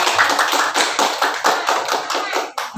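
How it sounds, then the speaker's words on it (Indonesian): An audience at a school dissemination event claps together in a brisk, even rhythm, a run of about a dozen loud, close claps. "Tepuk tangan dulu."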